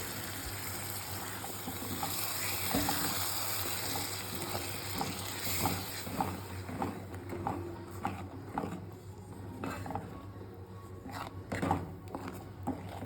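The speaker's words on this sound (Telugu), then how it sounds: "ఇందులో కూడా వాటర్ పోసుకోవచ్చు" Water poured into a mixer grinder jar in a home kitchen while cooking egg pulusu, a steady running, splashing gush with faint clinks, moderately close and continuing alone throughout.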